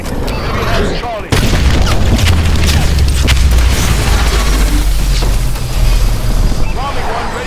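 Heavy booming explosions from a bombing run in Call of Duty: Advanced Warfare multiplayer, loud and rumbling with sustained low-end roar after a sudden onset, under game announcer voice lines.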